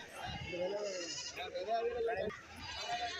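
Goats bleating at a busy goat market in Kerala, several wavering nasal calls overlapping at moderate distance while someone talks over them.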